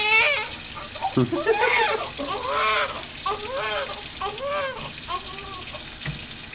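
Warm water runs steadily from a tap as a continuous hiss, with a person talking over it throughout.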